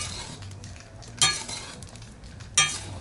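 Salt being stirred in a new cast-iron kazan during seasoning, a steady gritty scraping hiss with two sharp metallic clinks standing out, no talking.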